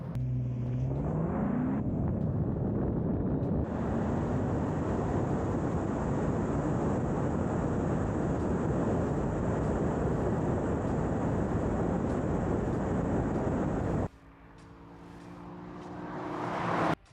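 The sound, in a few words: Lexus IS500 and Infiniti Q50 drag race launch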